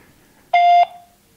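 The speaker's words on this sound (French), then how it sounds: "Veuillez laisser votre message après le bip" A voicemail beep: one steady electronic tone, about a third of a second long, sounds clearly and alone, then cuts off to near silence.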